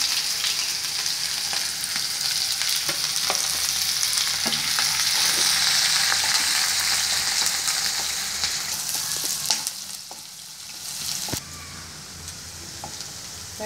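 Onions frying in a pan after mustard seeds for a ladies finger (okra) poriyal, a loud, dense sizzle with scattered crackles and stirring knocks, easing slightly toward the end.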